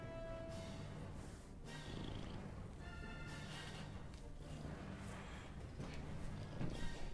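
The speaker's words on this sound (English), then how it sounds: "He has a purr." A cat purrs in a steady, rough, continuous rumble with a low throbbing texture, fairly close and with no talk over it, while faint tonal sounds drift in and out behind it.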